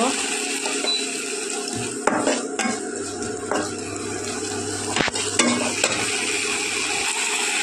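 A spoon scrapes and clinks against a pan as ghugni with tomato paste is stirred, a soft sizzle underneath and brief metallic knocks at intervals.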